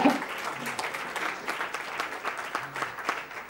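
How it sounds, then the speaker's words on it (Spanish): Applause from an audience at a literary award event in Madrid, steady dense clapping throughout that peaks at the start and holds at a moderate level, with a faint voice underneath. "espero que te llegue con toda su calidez el aplauso que te estamos enviando desde aquí, desde Madrid"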